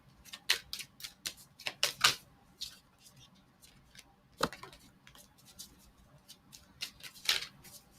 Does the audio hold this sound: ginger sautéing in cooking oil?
no